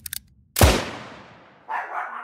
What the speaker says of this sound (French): seulement troublé par les aboiements frénétiques du petit chien